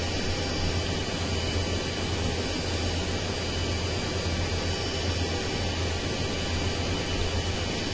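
Jet engines run in the VRS Superbug flight simulator game, a loud, steady, unbroken roar with an even whine on top and no talking.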